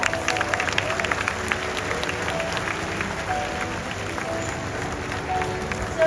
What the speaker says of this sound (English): So can we all please take this moment and give them a louder round of applause.